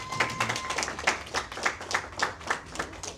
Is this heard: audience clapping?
yes